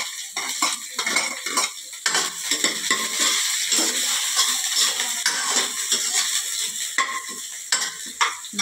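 Chopped onion drops into hot oil already holding cumin, ginger and garlic, setting off loud close sizzling while a metal spoon clinks and scrapes against the pan in irregular stirring strokes.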